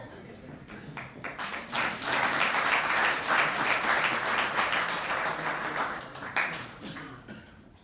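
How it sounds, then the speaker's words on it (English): An audience at a bar foundation luncheon breaks into applause, scattered claps building to a full, close wash of clapping that holds, then thins out, with some voices mixed in. "And you don't have to hold your applause, you can give it."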